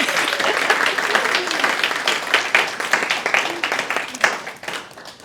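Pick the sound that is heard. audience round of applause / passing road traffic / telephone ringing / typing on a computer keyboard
audience round of applause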